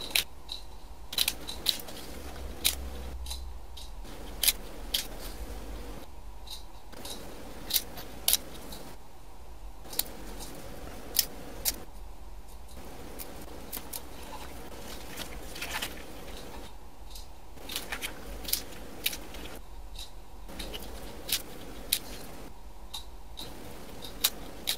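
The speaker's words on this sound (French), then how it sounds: "Là, je coupe les feuilles qui ne sont pas très bonnes." Scissors snipping leek leaves to shape a palm-tree decoration, with sharp, close clicks repeating in bursts at an irregular pace over a quiet background.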